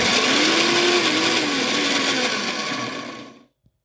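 Lentil batter whirring in an electric blender, a loud steady motor drone with a slightly wavering pitch for over three seconds before it cuts off abruptly into silence.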